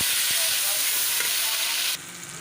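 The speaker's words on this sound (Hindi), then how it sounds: "ये टमाटर प्याज सब्ज़ मिर्ची सब चीज़ें फ्राई हो गई हैं" Tomatoes, onions and green chilies fry in a pan with a steady, dense sizzle throughout, the hiss dropping slightly in level near the end.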